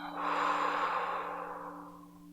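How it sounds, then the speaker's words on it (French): A deep, slow breath drawn in and released through the nose during a calm children's meditation, a single soft airy exhale fading out, close and quiet, no voices. "inspire profondément par le nez"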